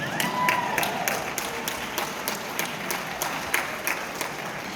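Audience applause fills a theatre gala, a dense, steady wash of many hands clapping at close range that holds evenly throughout with no voices standing out.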